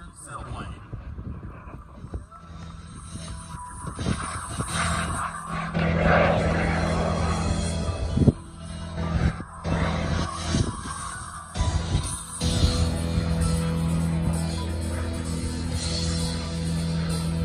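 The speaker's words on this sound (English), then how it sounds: "the Foxjet twin jet engine sailplane" A Foxjet twin-jet-engine sailplane performs at the National Championship Air Races in Roswell, New Mexico. Its sustained jet roar rises and falls as it passes, and an announcer's voice and crowd noise run beneath it.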